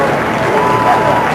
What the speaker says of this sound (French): on entend, semble-t-il, des acclamations